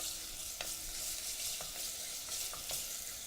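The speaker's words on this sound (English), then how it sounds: "So we're gonna flavor the smoked bacon." Smoked bacon frying in a pan as the base for a French sausage and white bean cassoulet, a steady close sizzle with occasional sharper pops and stirring clicks.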